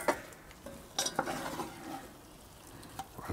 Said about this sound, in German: Einfach ein bisschen durchrühren.